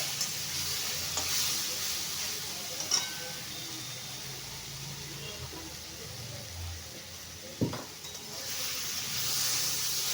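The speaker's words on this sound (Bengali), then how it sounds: "একটু মশলাটা ভাজা ভাজা করব" Spice masala frying in a pan for a papaya and chana dal curry: a continuous soft sizzle with stirring scrapes and a few clinks of the spoon against the pan.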